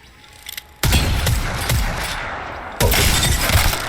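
Two loud, sharp 30-30 Repeater rifle shots in Apex Legends, the first at about 0.8 s and the second near 2.8 s, each with a long echoing tail; a faint click comes just before the first.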